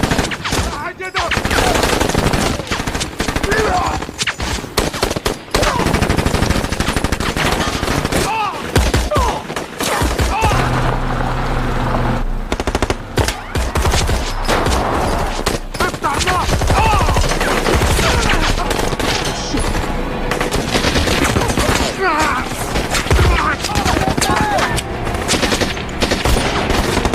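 Sustained bursts of automatic gunfire from a Taliban attack on soldiers crossing a field, loud and continuous with rapid volleys and shouting voices mixed in among the shots.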